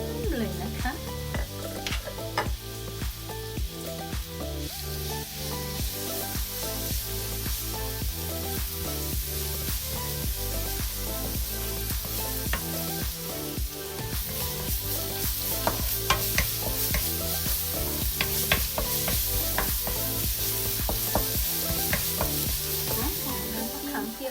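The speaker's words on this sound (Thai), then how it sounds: "น้ำมันร้อนแล้ว เราก็มาผัดกันเลยค่ะ" Loud, continuous sizzle of stir-frying in hot oil for fish with chili sauce, with steady spatula scraping and clinks against the pan throughout.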